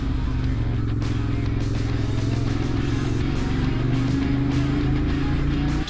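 A Ducati Monster motorcycle's exhaust rumbles steadily through Cheddar Gorge between 400-foot cliffs, a continuous loud engine drone with slight rises, close to the microphone.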